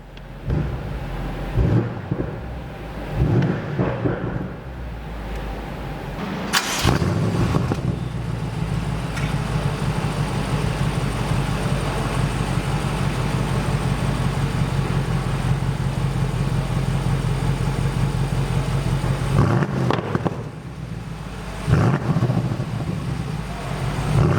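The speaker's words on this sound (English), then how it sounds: "Give it a couple little revs for you." A 2019 BMW M850 engine with exhaust flaps open blips a few times, then roars in a long sustained rev before dropping back to short throttle bursts; loud and close.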